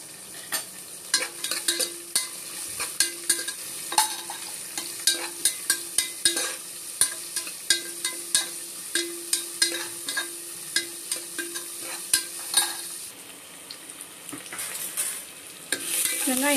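Onions sautéing in a pan after mustard seeds, cumin and curry leaves have spluttered: a steady sizzle with rhythmic spatula scrapes and taps against the pan, close and clear, then a smoother hiss once stirring stops.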